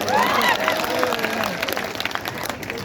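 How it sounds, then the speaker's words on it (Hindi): Audience applause at a Hindi poetry recital, a dense burst of clapping from a large crowd with some cheering and voices mixed in, loudest at the start and thinning slightly toward the end. "आप लोग जोरदार तालियां बजाइए।"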